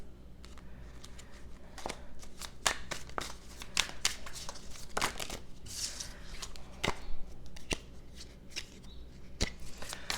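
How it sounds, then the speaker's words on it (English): Tarot cards being shuffled by hand, soft and close, with repeated riffling flicks and taps in an irregular rhythm, fairly quiet and without talk. "We're just shuffling here a couple more times."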